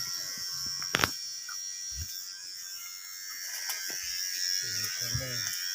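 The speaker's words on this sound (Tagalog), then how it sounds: "Pinipinis na po natin yung buhok ni Kuya Dodong." Electric hair clipper trimming a man's hair, a faint steady buzz running throughout, with a few clicks and bits of talk near the end.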